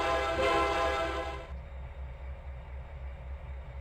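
A train whistle in the Trainz 2022 simulator sounds as a loud, rich sustained blast that cuts off sharply partway through, leaving a low rumbling engine idle pulsing steadily underneath.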